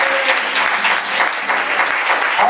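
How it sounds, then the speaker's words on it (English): A church congregation gives a round of applause for visitors, a dense, steady clapping from the crowd filling the room throughout. "give the visitors another round of applause"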